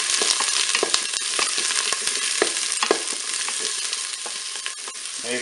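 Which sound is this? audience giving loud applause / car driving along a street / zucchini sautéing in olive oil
zucchini sautéing in olive oil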